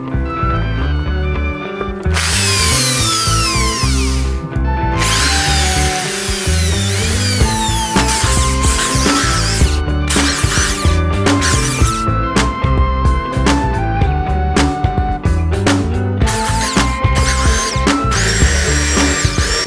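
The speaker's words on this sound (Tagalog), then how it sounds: "Bubutasan na itong engine cover natin gamit ang drill gun." A power drill whines loudly and continuously, its pitch rising and falling as it bores through a motor scooter's engine cover panel, with brief pauses between bursts.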